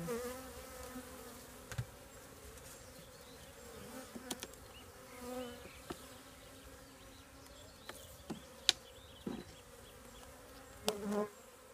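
A steady, low hum of many honey bees buzzing continuously in a hive, with occasional faint clicks and bumps.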